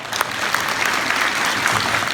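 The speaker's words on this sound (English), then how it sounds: "Let's give all these folks a round of applause." Round of applause from an audience at an elementary school celebration, a brief burst of many hands clapping, steady and fairly loud.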